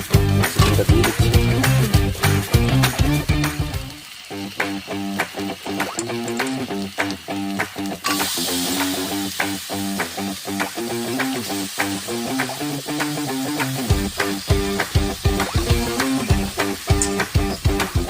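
Chicken pieces go into hot oil that has been cooked down with spices, and a loud, continuous sizzle fills the pan. Stirring clatters sound through it, and the sizzle drops briefly before surging again.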